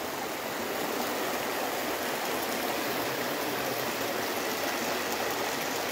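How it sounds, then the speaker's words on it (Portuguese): River in Conceição running full after heavy rain, a dense, steady rushing roar of water that fills the whole stretch with no voices. "Veja aí como é que está o rio aqui em Conceição."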